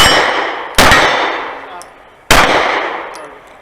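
Two loud, sharp pistol shots crack out at an outdoor shooting range about a second and a half apart, each followed by a ringing, slowly fading decay.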